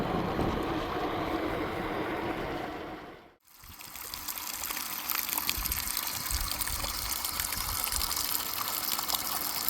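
Flowing water near a river ferry crossing, a steady rushing gush heard up close that cuts out briefly near the middle before resuming, no voices.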